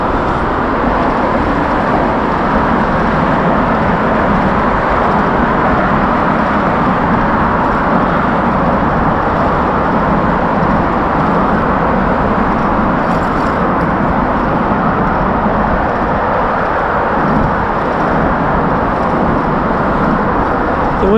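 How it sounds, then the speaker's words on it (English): Continuous city traffic beside a New York plaza forms a dense, steady roar of passing cars and buses, unbroken for the whole stretch with no voices. "you still have to listen to the traffic right next door"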